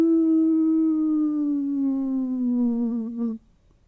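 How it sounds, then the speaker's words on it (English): A single long wolf howl, loud and sustained for over three seconds, holding a steady pitch that slowly sinks and wavers before breaking off, alone with no talk. "when you will first hear that wolf's voice."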